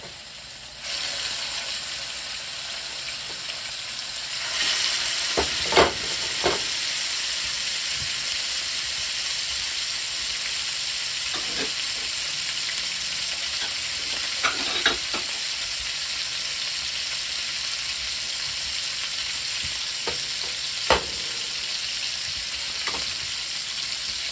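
Pork pan-frying in a hot pan beside potatoes, giving a steady, loud sizzle throughout, broken by a few sharp scrapes and clacks of a utensil stirring the meat.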